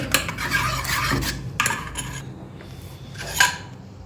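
Gram flour paste with turmeric and mustard oil being stirred into a thick batter in a bowl, a scraping, rubbing sound with a few louder clinks of utensil against the bowl, close by and without talk.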